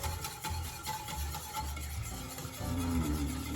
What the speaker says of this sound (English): Give that another stir with the wire whisk